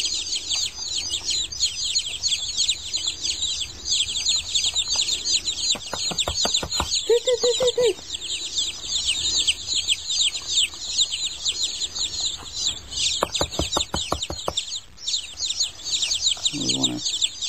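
Young chicks peep constantly in a shrill chorus while soft pecking taps and a couple of brief clucks sound nearby.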